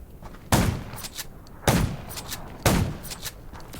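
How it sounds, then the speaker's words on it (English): Gunfire in the zombie video game Undawn, three sharp loud shots spaced about a second apart, each with a short echoing tail over a quiet background. "Gunshots"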